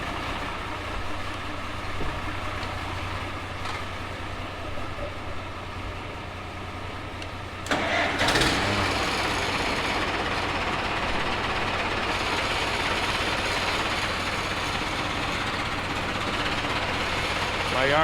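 A 1999 Ford F350 Powerstroke diesel with a high-pressure oil pump leak runs at idle, a steady low rumble that swells noticeably louder about halfway through and holds there, heard up close.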